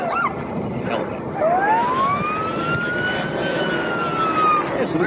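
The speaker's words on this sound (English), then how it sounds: "You hear their siren, they're already having fun up there, they're playing." A Baltimore City Police AS350 (H125) helicopter sounds a rising, wavering siren tone over the steady roar of rotor and engine at an airshow. The siren sweeps up, holds and fades, fairly loud within the din.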